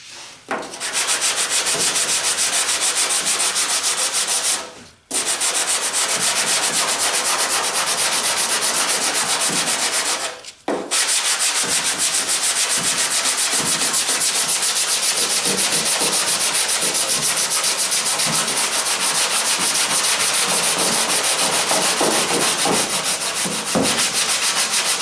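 Continuous abrasive sanding on the bodywork of a 1977 Camaro Z28, a loud, steady rasp that stops briefly twice before resuming, with no voices.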